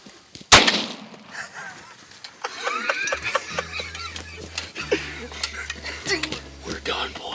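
A single sharp gunshot cracks out close by while hunting a whitetail buck, followed by people talking and laughing.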